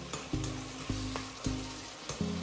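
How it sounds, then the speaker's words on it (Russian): Ingredients for a Chinese soup frying in a wok with a steady sizzle, while a utensil scrapes and clanks against the pan in about four regular stirring strokes, close up and with no talking. "Все это постоянно перемешиваем."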